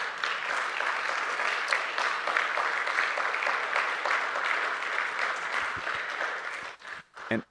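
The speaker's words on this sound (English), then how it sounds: "let's just clap and celebrate the church" A church congregation claps to celebrate Appalachian Service Project missionaries, sustained broadband applause from many hands that holds steady for several seconds, then thins and breaks off into a few scattered last claps.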